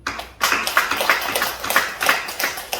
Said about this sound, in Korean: 그분 박수 한번 쳐드리십시오